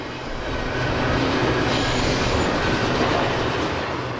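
A long freight train rumbles past continuously beside a river in British Columbia, Canada, wheels clattering and a faint squeal over a heavy, steady roar that stays loud throughout.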